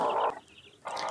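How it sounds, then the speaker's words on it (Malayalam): Native chickens cluck close by in two short bursts separated by a brief quiet gap. "ഇനി നമ്മൾ കാണാൻ പോകുന്നത് നല്ല നാടൻ കോഴികളെയാണ് കേട്ടോ"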